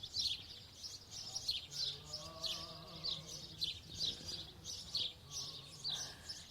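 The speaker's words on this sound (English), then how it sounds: "We've got birds on the one side" Birds singing outdoors at Wiggly Wigglers, a farm setting: repeated bright chirping phrases in a regular rhythm over a soft low rumble, with a quieter warbling call weaving underneath.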